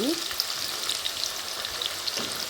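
Onion pieces fry in hot oil for mixed vegetable fried rice, giving a steady, close, even sizzle that holds for the whole moment without any voices.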